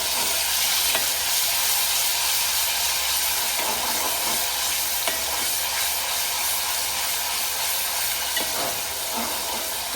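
Masala for an eel fish curry fries in hot oil in a pan with a loud, constant close hiss and sizzle and occasional faint stirring scrapes, with no talking.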